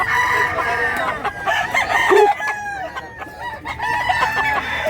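A rooster crows loudly and close by, with other chickens clucking around it and some voices nearby.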